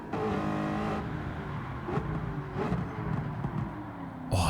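A new Corvette's engine revs hard, loud and close, with repeated throttle blips and rising and falling pitch under the steady rumble of the car.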